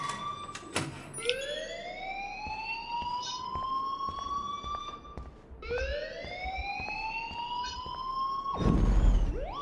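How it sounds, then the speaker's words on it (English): A school alarm in the video game Life is Strange wails loud and alone. Each siren sweep rises and then holds a steady tone, sounds twice, and ends in a burst of noise. "please turn off that alarm since that's your job"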